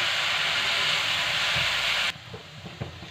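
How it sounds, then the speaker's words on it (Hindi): Vinegar and spices sizzling in a pan for chicken egg fried rice, a loud steady hiss of frying that cuts off sharply partway, leaving quieter clatter and stirring. "और सिरका, और इसको अच्छे से मिक्स करके फ्राई कर लेंगे।"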